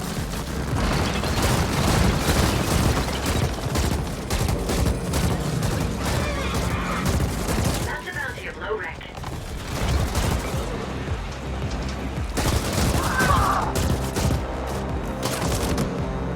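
Rapid bursts of gunfire in the video game Ascent, a dense barrage of shots and booms running almost continuously at close range with only brief lulls.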